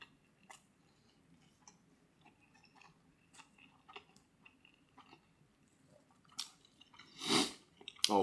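Someone bites into and chews a Jersey Mike's sub dressed with onions, salt, pepper, oregano, olive oil and vinegar: soft, close crunching ticks spread across the clip, building to a louder bite near the end.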